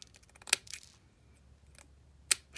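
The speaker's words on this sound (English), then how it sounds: "now I'm going to cut all the little crispy things that sticks out" Scissors trimming stray bits from a piece of plastic canvas: a few crisp snips close by, two of them sharper and louder, with short quiet gaps between them in a quiet room.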